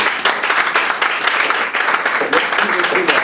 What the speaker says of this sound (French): Maman Francine Naya Kayembe, vous pouvez vous tenir debout avec nos acclamations